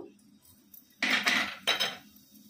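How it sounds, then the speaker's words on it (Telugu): Dry red chillies and urad dal roasting in a pan for podi karam, a spatula scraping through them in two brisk close strokes against the metal, with quiet between. "ఎండుమిరపకాయలు తీసుకున్న తర్వాత ఇందులో మిగిలినవన్నీ కూడా వేసుకొని వేయించుకోవాలి"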